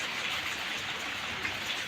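Steady rain falls outside a village home, a constant soft hiss of drops with no breaks and no voices.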